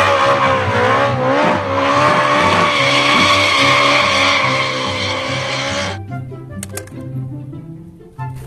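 A red toy race car's skidding effect: a loud, sustained tire squeal over a throbbing engine drone, cutting off abruptly into a few sharp clicks and rattles.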